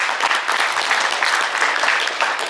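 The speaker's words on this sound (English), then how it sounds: "Give Kenna a round of applause." A crowd at a high school post-prom event in Fairfield, Kansas gives a round of applause for Kenna, dense, steady clapping filling the whole moment without speech.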